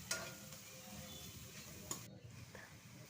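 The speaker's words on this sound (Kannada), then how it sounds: "ಚೆನ್ನಾಗಿ ಫ್ರೈ ಆಗ್ತಾಯಿದೆ." Chopped onions frying in a pan for an egg recipe, a steady low sizzle with a few sharp clinks of a utensil stirring, fairly quiet and without talk.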